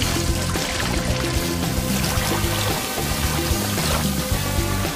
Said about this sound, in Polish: Pozostaje tylko napełnić go wodą.